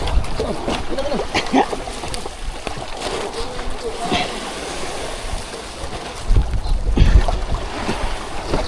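A small boat bumps over choppy Pacific waves while tuna fishing, with wind buffeting the microphone, splashing hull thuds, and voices calling out nearby.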